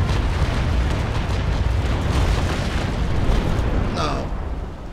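Ship cannons firing in the Naval Action game, the frigate Endymion fighting two fifth-rate ships: five seconds of loud, dense rolling booms merging into one continuous roar.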